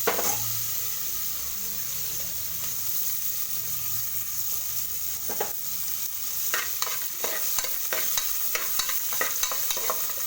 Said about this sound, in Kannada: ಕರ್ಬೇವಿನ ಸೊಪ್ಪು ಹಾಕ್ತೀನಿ.